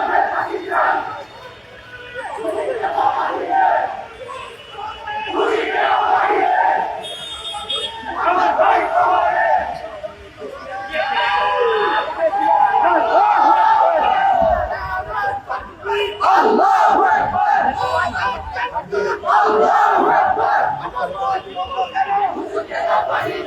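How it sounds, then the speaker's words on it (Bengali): Crowd of protesters on a march in Dhaka, demanding justice over rape and murder, chanting slogans in loud, continuous waves with repeated rhythmic shouts and no break. "আমরা দেখতে পাচ্ছি যে এখানে বিক্ষোভ কর্মসূচি চালিয়ে যাচ্ছেন"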